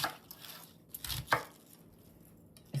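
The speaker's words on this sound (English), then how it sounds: "I'm gonna cut it in smaller pieces" A knife cuts cabbage into smaller pieces with a few scattered, soft chops against a board, close and quiet with pauses between strokes.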